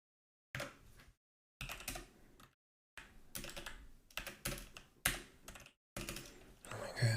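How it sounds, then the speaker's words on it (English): Computer keyboard typing during a game-server development session, in bursts of rapid, close key clicks separated by short silent pauses, fairly quiet overall. "What's wrong with my typing?"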